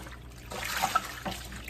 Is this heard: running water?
yes